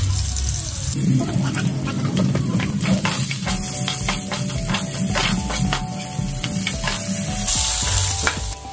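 Capsicum fries with salt in a hot pan, giving a loud, steady sizzle broken by scraping stirs and a few crackles close by, with no speech.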